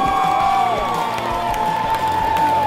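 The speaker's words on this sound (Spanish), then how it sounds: "Un fuerte aplauso, por favor." Audience at a cosplay contest cheering and whooping with scattered clapping, loud and continuous throughout, with music tones sustained underneath.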